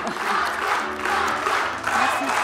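Studio audience applauding on a French TV variety show for children, a steady broad wash of clapping and crowd noise that swells and dips across the clip, with some voices mixed underneath.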